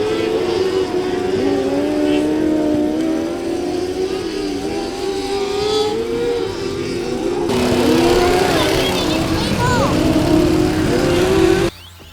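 A racing go-kart engine with changed gears buzzes loudly and close, its pitch rising and falling as it revs, then grows harsher and louder before cutting off abruptly at the end.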